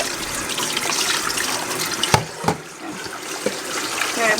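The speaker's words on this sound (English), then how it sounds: "Now I gotta rinse it 3 times." Tap water runs steadily into a sink while poke salat greens are rinsed beneath it, a close hissing splash with a few sharp clunks and handling knocks as the leaves are moved about.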